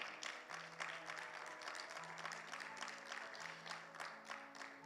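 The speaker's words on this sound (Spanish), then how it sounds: "¿Cuánto le dan un fuerte aplauso al Señor?" Congregation applause during a Bible class on Daniel and Revelation, a faint, steady round of clapping over a low sustained background tone, lasting several seconds.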